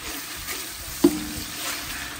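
Garlic and onion fry in a pan for garlic-butter shrimp, a steady crackling sizzle with one brief scrape or stir partway through, close and continuous, no talking.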